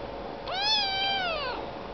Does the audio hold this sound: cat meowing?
yes